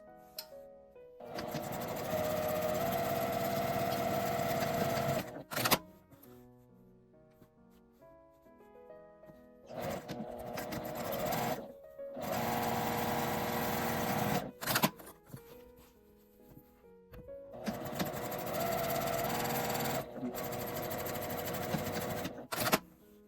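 Sewing machine running in three long bursts of rapid stitching with short pauses between, sewing a seam with 1.5 cm allowance on a fabric drawstring bag made from scrap cloth, close and clear.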